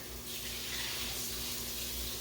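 A kitchen tap runs so the water warms up for a bread-roll dough, giving a soft, steady hiss of flowing water with no voices.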